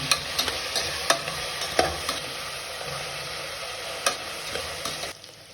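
Ginger garlic paste frying in a pan for chicken palav is stirred steadily, a constant sizzle broken by several sharp scraping clicks of the spoon against the pan, close and fairly loud, with no talking.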